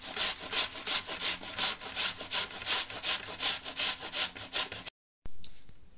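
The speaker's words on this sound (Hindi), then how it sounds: "दो आलू कच्चे लिए हैं हमने, अब इनको कद्दूकस से अच्छे से घिसेंगे।" Two raw potatoes being rubbed hard against a kitchen grater, a loud, close rhythmic rasping of fast repeated strokes that stops abruptly near the end, followed by a brief scrape.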